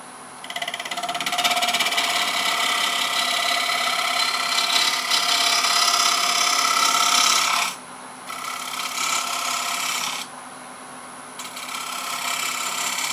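Wood lathe turning a child's stool with a small 3/8 inch bowl gouge, a steady loud hissing, scraping cut that drops out briefly, resumes more softly, then returns, alone without talk.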